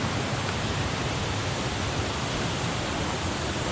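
A waterfall by stepping stones on a coast-to-coast walking trail rushes in a steady, dense roar, close and constant throughout with no other sounds.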